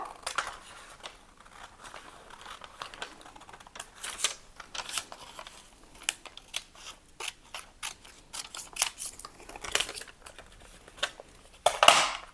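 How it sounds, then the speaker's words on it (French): Scissors snip through a paper pattern for a flared skirt, cutting along newly traced lines in a series of short, crisp, irregular close-up snips with quiet pauses between them. "Donc là, je coupe à la partie verte."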